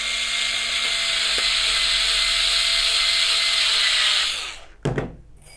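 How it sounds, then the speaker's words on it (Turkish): A power screwdriver drives screws into a nostalgic bag handle, a steady high whine running for several seconds close up, then stopping, followed by a brief clatter. "Evet, yerleştiriyorum ve hemen vidalıyorum."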